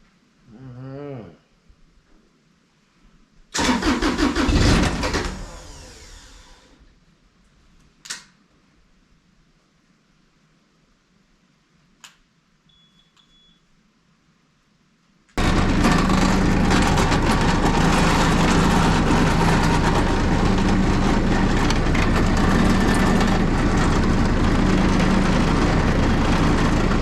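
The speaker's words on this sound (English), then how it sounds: "It is a very cold natured running little motor." A Bomag BMP8500 roller's small engine cranks briefly, catches with a loud burst and sputters off, then after a quiet gap fires up again and runs steadily and loudly for the remaining stretch.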